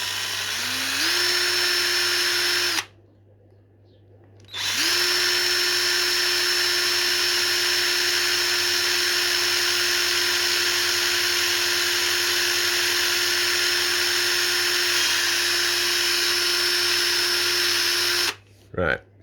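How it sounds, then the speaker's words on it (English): A power drill bores holes in a plastic fry tray, whining at a steady pitch for long runs with a brief pause partway through, loud and close. "Let's get these drilled."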